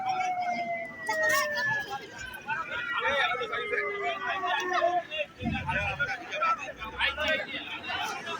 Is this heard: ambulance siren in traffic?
yes